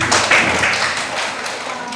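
Classroom students clapping for a correct answer during a practice teaching lesson, a brief burst of close, uneven hand claps that thins out over two seconds.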